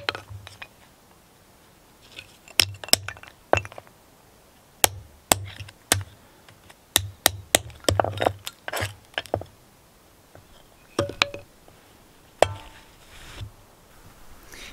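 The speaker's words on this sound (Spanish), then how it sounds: "seguimos un batuning que le llaman los del bushcraft." A Damascus knife forged from spring steel is batoned during destructive testing, giving a series of sharp, close knocks and cracks that come in irregular bursts, some quick doubles, with short quiet gaps between them and no talking.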